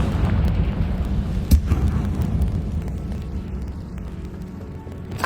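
A Confringo blasting spell in a Harry Potter video game sets off a deep, booming explosion up close, followed by a rumbling low roar that slowly fades over several seconds.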